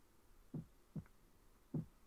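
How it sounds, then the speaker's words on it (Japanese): A faint, low heartbeat thumps three times at uneven spacing inside a hospital-themed video game, soft, dull and close, with no talk over it. "徐々に心臓の音がでかくなってる"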